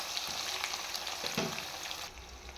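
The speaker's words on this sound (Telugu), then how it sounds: "ఆనియన్స్, టమాటాసు, 2 పచ్చిమిర్చి, కరివేపాకు కొద్దిగా వేసి బాగా ఫ్రై చేసుకోండి" Onions, tomatoes, green chilies and curry leaves fry in a pan with a steady bright sizzle, broken by a few soft stirring knocks, then the hiss eases toward the end.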